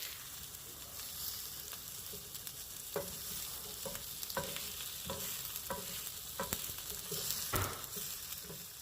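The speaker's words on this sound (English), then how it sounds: "Once the cheese toasts on the griddle, it'll all come up easily" Cheese-topped tacos crisp on a griddle with a fairly quiet, steady sizzle, and scattered clicks and scrapes of a spatula are heard throughout, with no talking.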